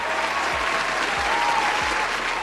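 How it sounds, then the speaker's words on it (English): A short burst of steady applause from an audience, even and sustained, with a few low thumps underneath. "I'll give him a round of applause."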